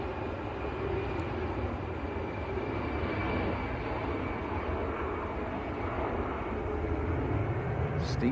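A jet roars steadily during a steep takeoff at Manchester Airport, a broad, continuous engine rumble holding close and loud throughout with no break.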